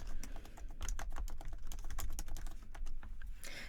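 Rapid typing of a local computer password on a Mac keyboard, a steady stream of close, crisp key clicks running throughout with no talk.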